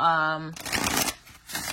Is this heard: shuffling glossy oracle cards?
yes